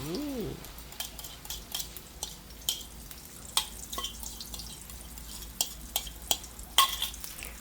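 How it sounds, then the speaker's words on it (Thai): Eggs, beaten with plenty of vegetable oil to make them fluffy, fry in a pan with a soft steady sizzle and irregular crackles and spits that grow sharper near the end, without talking. "เราก็ทอดไข่ค่ะ"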